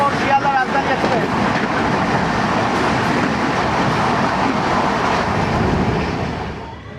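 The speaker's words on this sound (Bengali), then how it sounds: "ক্রস করতে 12314 শিয়ালদা রাজধানী এক্সপ্রেস।" Sealdah Rajdhani Express, train 12314, rushes through a station crossing at Asansol with a dense, steady roar of wheels and carriages close by, holding loud for several seconds before fading slightly at the end.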